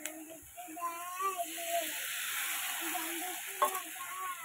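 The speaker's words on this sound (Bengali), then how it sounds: "ভালো মতন একটু কষাবো" A spice paste of cumin, ginger, green and ripe chillies and garlic, loosened with a little water, frying steadily in a pan with a soft continuous sizzle, light stirring scrapes and faint voices in the background.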